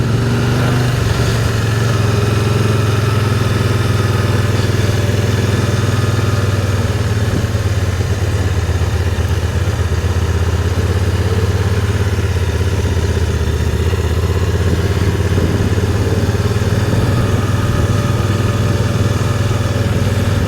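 A Can-Am Spyder three-wheeled motorcycle engine running steadily while riding through a quiet Sherbrooke, Quebec campus, a loud continuous low drone with wind and road noise and no clear breaks.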